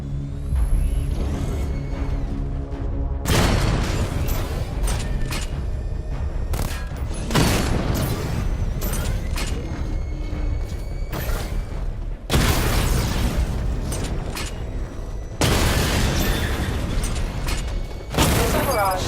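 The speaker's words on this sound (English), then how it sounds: "Destroy targets to charge up weapon energy and activate missile barrage." Heavy missile barrage explosions from Batman: Arkham Knight boom in repeated loud bursts, each blast cutting in sharply and ringing out over a rumbling low end, arriving in several waves.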